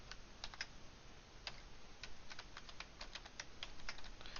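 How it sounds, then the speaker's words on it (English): Rapid, uneven keystrokes on a computer keyboard while entering text into an Excel spreadsheet, a close, light patter of clicks continuing throughout with no talking. "now I'm going to type mean"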